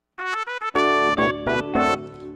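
A gospel backing track plays with every instrument but the bass, piano and keys leading, with a few short chords followed by fuller sustained ones, close and clear.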